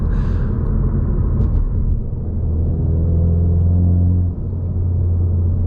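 A 2019 Ford Mustang EcoBoost engine pulls hard from low revs with a deep, close rumble that builds into a rising drone, then eases off. No voices are heard.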